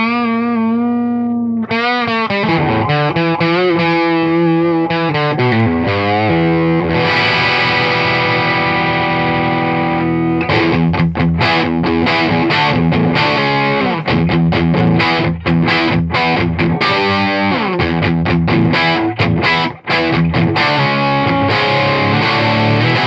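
An electric guitar plays through a Marshall Origin amp set to its half-watt mode, loud distorted chords and riffs ringing with strong sustain and some quick choppy strums, continuous and alone.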